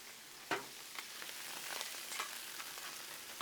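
Mini sweet peppers, jalapenos and onion sizzle close up on a Blackstone griddle, with a steady crackling hiss and a few sharp taps and scrapes scattered through it.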